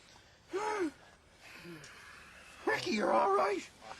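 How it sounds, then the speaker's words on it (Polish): A man who has just been revived gasps for breath, a sharp intake near the start and fainter ragged breaths after it, followed by a voice speaking close by. "Złapał oddech"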